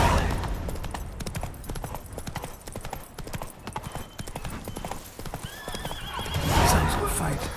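Geralt's horse Roach gallops along in The Witcher 3, with rapid rhythmic hoof clip-clops up close, a whinny near the end, and a brief spoken line over the hooves.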